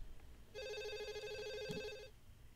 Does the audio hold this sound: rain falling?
no